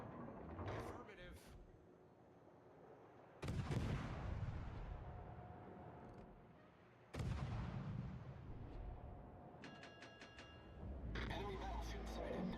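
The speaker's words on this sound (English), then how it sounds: "Concentrate fire on the enemy warship." Naval artillery fires in the World of Warships video game as three heavy booms, each followed by a long rumbling decay. Game voice lines and chatter sound between the shots.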